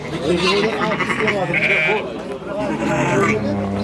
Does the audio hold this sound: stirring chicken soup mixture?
no